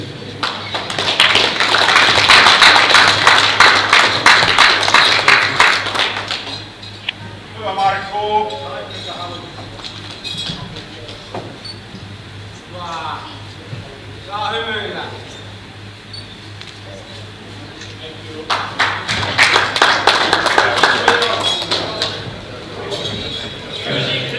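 Dense, sustained audience applause at a powerlifting championship awards ceremony, loud and steady for several seconds, dropping away while someone speaks over a PA, then swelling again into full clapping near the end.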